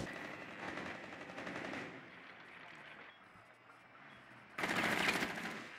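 Rapid automatic gunfire from Rainbow Six Siege, fired at a wall, comes in loud sustained bursts with a brief lull in the middle and a harsher, closer burst near the end.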